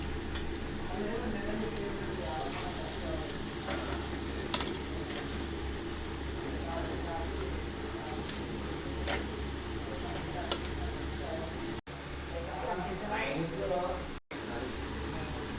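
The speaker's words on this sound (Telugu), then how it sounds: "చేపలు అయితే వేసుకుంటున్నాను" Pieces of pandugappa fish dropped into cooked onion paste in a pan, giving a steady sizzle with occasional ticks and utensil clinks, while a voice talks over it throughout.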